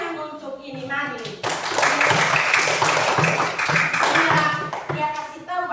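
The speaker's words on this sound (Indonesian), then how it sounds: "tepuk tangan untuk ini Marlin" A class of children bursts into clapping for a classmate, a dense round of applause lasting a few seconds, framed by an adult's voice speaking before and after.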